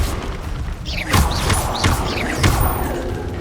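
Repeated casts of the Incendio fire spell in Hogwarts Legacy: three or four sharp whooshing bursts with thumping impacts spaced about half a second apart over a rumbling game background.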